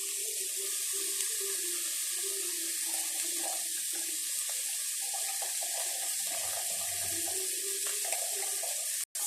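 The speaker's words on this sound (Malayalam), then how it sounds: "ഇനിയാണ് നമ്മൾ തേങ്ങാപ്പാൽ ഒഴിക്കുന്നത്." Coconut milk poured into a pan of oil-separated masala spiced with garam masala: a steady, close liquid pouring and splashing that runs continuously for about nine seconds, with no talking over it.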